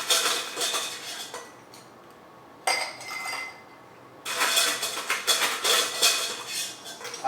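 Ice going into a glass for a Manhattan cocktail, bright clinks and rattles in two bursts with a quieter gap between, close and crisp, with no talk.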